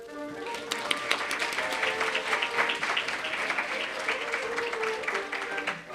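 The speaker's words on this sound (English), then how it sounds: "Please, a round of applause to the Directors of Legal Services, Karen Ga" An audience applauds steadily inside the Tennessee State Capitol, many hands clapping in a dense, sustained wash at moderate volume from start to finish.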